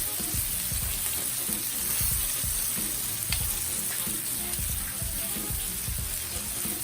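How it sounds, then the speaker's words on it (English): Steak searing on a Blackstone griddle, a steady close-up hiss of sizzling fat with low scraping and tapping thuds as the meat is turned, no talking. "we're gonna flip. Oh yeah, look at that sear"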